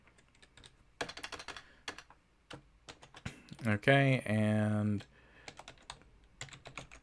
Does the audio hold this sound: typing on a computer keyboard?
yes